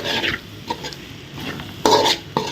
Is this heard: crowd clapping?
no